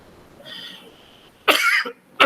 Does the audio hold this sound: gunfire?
no